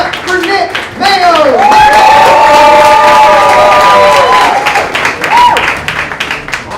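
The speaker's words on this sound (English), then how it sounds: "keep that clapping going" A stand-up comedy audience claps and cheers loudly in a sustained burst of applause with whoops and shouts, swelling and then tapering off near the end.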